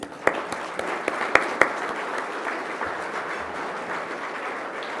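A seated audience at an inventors hall of fame induction ceremony applauds, dense steady clapping with a few sharp louder claps standing out early, continuing evenly throughout.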